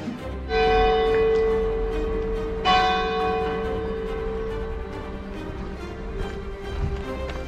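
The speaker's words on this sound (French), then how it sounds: "C'est le gong de la victoire, tu l'entends?" Bell struck at the finish of a 10 km road race, two loud ringing strikes about two seconds apart, each leaving a long humming resonance that slowly fades over outdoor crowd noise.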